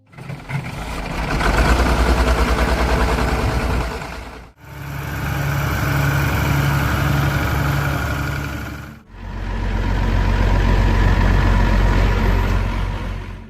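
An Allis-Chalmers 190 XT diesel tractor engine idles steadily and loudly, cutting out briefly twice before rumbling on again, with no voices.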